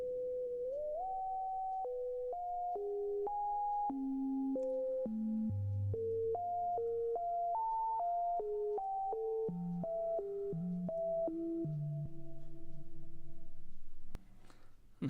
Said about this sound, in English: when I press play, it should give us a reverb effect on our synth.